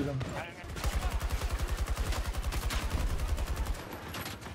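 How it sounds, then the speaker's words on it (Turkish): Rapid automatic gunfire in the Battlefield 2042 video game, Breakthrough mode, rattles in a steady, fast stream of evenly spaced shots for several seconds at moderate level before tapering off. "Ben hep birilerini vuruyorum ama ölene kadar vuramıyorum."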